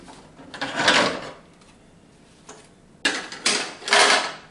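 A plastic grille section is pressed free from a car's front bumper: a brief scraping rustle, a quiet pause, then a close cluster of sharp plastic snaps and clatters as the clips release.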